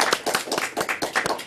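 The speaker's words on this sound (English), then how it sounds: "Round of applause." Club members at a Toastmasters meeting clap in a brief, close round of applause, with about a dozen distinct sharp claps in quick, slightly uneven succession.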